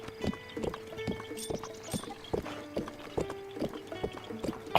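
A horse in a Zelda game set in Hyrule trots with a sharp, rhythmic clip-clop of hooves, close and regular, the footfalls joined by snorts and a brief whinny.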